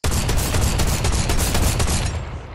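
Loud, close gunfire in Fortnite as a shotgun blasts at a wall, a dense rapid volley of shots with little gap between them, cutting off just before the end.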